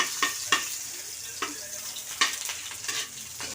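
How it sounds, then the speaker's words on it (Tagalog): Garlic and onion sautéing in a pan, a constant sizzle of frying broken by sharp spoon scrapes and stirring clatters, close and without talk. "Isuro natin yung sibuyas."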